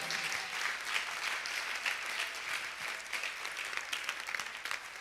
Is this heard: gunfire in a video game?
no